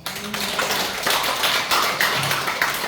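Congregation at a Korean church revival service claps in encouragement after a worship leader's praise, a dense steady patter of many hands, fairly close and sustained throughout.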